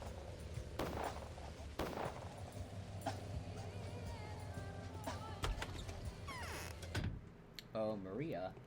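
Rapid bursts of gunfire in the video game Pathologic crackle almost nonstop, with sharp impacts and whooshing effects layered over a dense, busy mix.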